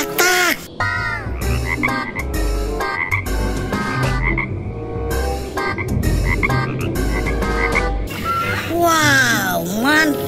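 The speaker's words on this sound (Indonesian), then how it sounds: "dan ini ada si reptil katak" Loud, rhythmic, electronic-sounding frog croaks repeat in quick bursts, like a toy or animation, while someone talks and laughs over them.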